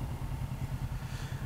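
A motorcycle idles steadily nearby on a Los Angeles street beside a tennis club, with a low, even mechanical clatter and no voices.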